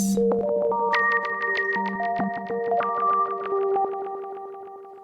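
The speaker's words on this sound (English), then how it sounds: "into digital wind chimes that sound something like this." Bright synthetic chime tones made from a sine wave loop in Massive X and Serum ring out in a quick, overlapping cascade, each note pinging and sustaining over a steady low drone, with no voices.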